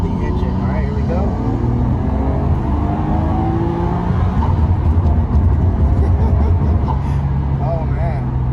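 A Nissan Skyline GT-R R33 with its straight-six engine revs and accelerates hard, a loud, close, rising drone with harmonic sweeps that climb and reset as it pulls through the gears.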